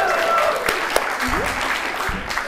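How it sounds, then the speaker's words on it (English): Audience clapping at a casual live show, a brief patter of hands under a noisy room with some voices mixed in, fairly loud and short-lived. "Now we clap."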